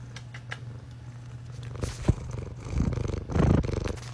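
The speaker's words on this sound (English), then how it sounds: "And purrs and purrs." A cat purring near the ear in a low, steady rumble, swelling louder toward the end with a few soft scrapes and rustles around it.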